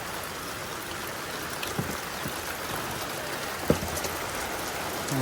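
Heavy rain pours down in a steady, even hiss, with a few scattered louder drips and patters standing out against the constant downpour.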